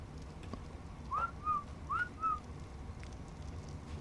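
A bird in the video game Ark gives two paired calls, each a quick rising whistle followed by a lower sliding note, soft and clear over a quiet background hum.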